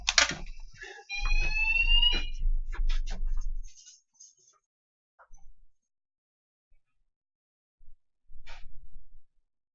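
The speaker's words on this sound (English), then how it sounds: "That's actually the alarm going off." A fire alarm sounds indoors in a room, with loud repeated high-pitched beeping for several seconds. It then drops to scattered faint sounds before one more short burst near the end.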